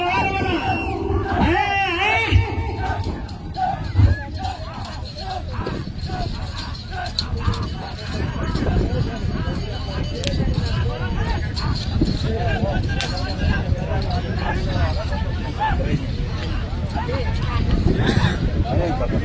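A large crowd at a gathering in Telangana cheers and shouts in a dense, continuous roar, with voices and whoops blending into loud, steady noise throughout.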